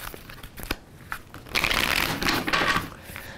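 Tarot cards being shuffled up close, a few soft taps followed by a two-second papery riffling flurry with a brief flick at the end, no voices.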